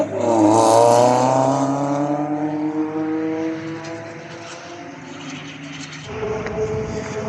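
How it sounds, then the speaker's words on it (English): A track day car at Cadwell Park roars past close by, its engine note rising loud then sweeping down in pitch as it moves away, followed by another car approaching and revving further off. "there is a lot of cars coming out right now."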